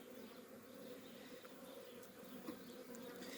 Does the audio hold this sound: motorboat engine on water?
no